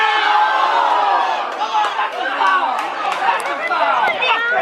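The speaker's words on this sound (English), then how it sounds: "You guys will hear cheering in a minute or not cheering." A crowd watching the NBA Finals roars and shouts at length, loud and dense, with mixed voices and chatter blending throughout.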